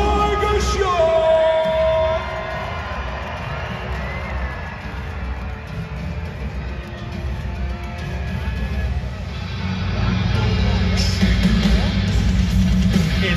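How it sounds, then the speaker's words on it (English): An arena crowd at a Hot Wheels monster truck glow show in London screams and cheers, a dense, loud roar of voices that swells again near the end. "It's a fan favorite, so scream as loud as you can"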